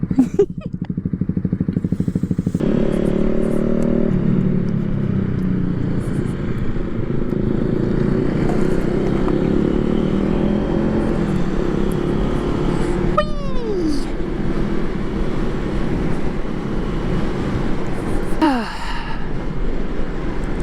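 A Honda Rebel motorcycle engine drones steadily while riding through traffic, with wind noise and passing vehicles, and a voice speaks briefly over it.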